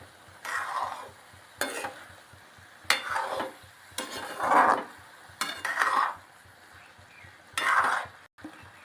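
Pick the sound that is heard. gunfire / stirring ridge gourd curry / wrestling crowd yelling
stirring ridge gourd curry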